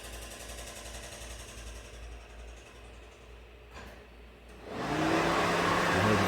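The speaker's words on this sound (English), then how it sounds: "Normally it would run the cooling fan." The engine cooling fan on a 2012 Ford F150 kicks on during a key-on, engine-off ECM self-test. A faint electrical hum gives way to a loud, steady whooshing roar in the last second or so.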